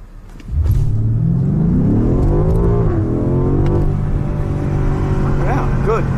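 A BMW M5 Competition engine revs up hard as it accelerates on a wet road at night, pitch climbing through the gears with a brief dip at a shift, loud and close throughout.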